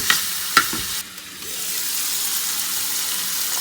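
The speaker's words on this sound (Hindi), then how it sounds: "और इनको 2 से 3 मिनट के लिए मज़ीद पकाएंगे ताकि चिकन जो है अच्छे से गल जाए।" Chicken for fajitas pizza frying in a pan, a loud continuous sizzle with a couple of sharp clanks from stirring near the start, then an unbroken hissing fry up close.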